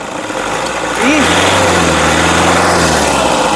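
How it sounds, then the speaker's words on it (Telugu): A Toyota Innova 2.5 V 2010 engine cranks briefly and catches, then settles into a steady, fairly quiet idle close by, with a faint high whine over the low hum. "ఒకసారి ఇంజన్ స్టార్ట్ చేసి చూపిస్తానండి స్టార్ట్ చేయి ఇంజను సింగిల్ సెల్ఫ్లో కార్ స్టార్ట్ అవుతుంది"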